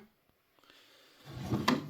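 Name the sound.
drawer opening or closing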